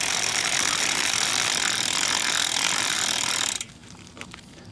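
Bicycle chain scrubber working grease off a chain, a loud continuous gritty whirring and rattling that runs steadily, then stops abruptly, leaving a few faint clicks.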